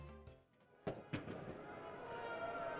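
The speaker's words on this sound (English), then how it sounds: "Fireworks in the sky tonight." Fireworks bursting in the night sky after a Colorado Springs Switchbacks FC soccer match, with two sharp booms close together followed by a rolling, crackling tail and distant crowd ambience.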